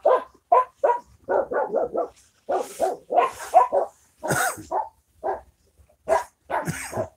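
A dog barks repeatedly in short, loud bursts, some sharp and yippy, close by with brief pauses between volleys.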